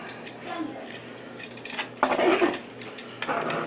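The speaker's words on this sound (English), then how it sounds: "Let's get it sliced and get it plated up." Knife and metal serving utensils clinking against a platter while a roasted prime rib is sliced and plated in a home kitchen; close, intermittent scrapes and clatters with a louder clash midway and faint voice underneath.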